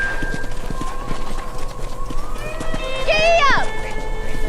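Horse hooves clip-clop at a steady trotting rhythm in the Red Dead Redemption video game, with a horse whinny rising near the end over continuous game ambience.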